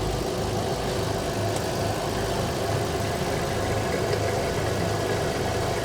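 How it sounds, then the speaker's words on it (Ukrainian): A Seat Exeo, the Audi A4 twin, sits with its engine idling under the open bonnet. The hum stays steady and even, close by and constant throughout, and no one speaks. "Двигун працює."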